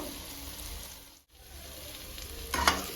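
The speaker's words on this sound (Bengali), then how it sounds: "এবারে মশলার সাথে মশরুমটা ভালো করে মিক্স করে নেব দেখো মিক্স করে নিচ্ছি" Fried mushrooms being stirred into cooked-down masala in a hot pan give a steady, close sizzle with soft stirring scrapes, a brief lull midway, then a louder burst of frying near the end.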